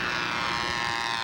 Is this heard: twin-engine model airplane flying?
yes